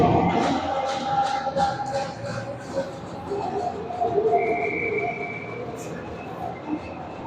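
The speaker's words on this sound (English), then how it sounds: "we're going to get an icing whistle" In an ice hockey game, a referee blows a single sustained whistle to call icing. The blast rings out over the noisy rink and crowd.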